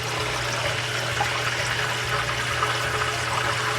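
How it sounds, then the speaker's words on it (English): Cheese splattering in hot oil in an electric skillet while breaded pizza burgers fry: a steady, dense sizzle with faint crackles throughout, no voices. "That's what the splattering is right there, is some of the cheese."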